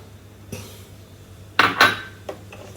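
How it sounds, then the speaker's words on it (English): Flour and other pudding ingredients tipped into a mixing bowl make a few sharp clinks and knocks against the bowl, scattered over quiet pauses, loudest as a double knock near the middle, with no speech. "So in goes the flour"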